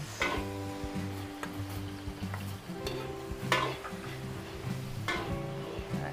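Onion and garlic sautéing in a pan for Filipino-style home cooking, a steady close sizzle with stirring scrapes and small clicks running throughout, with a soft tonal background underneath.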